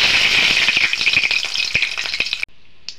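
Cinnamon, cardamom and dried red chillies sizzle and crackle steadily in hot ghee, a bright continuous frying hiss with small pops that cuts off abruptly near the end.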